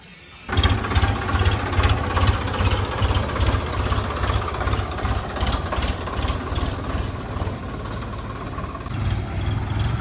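A tractor engine starts abruptly and settles into a steady, rhythmic idle, chugging loudly and close by without pause.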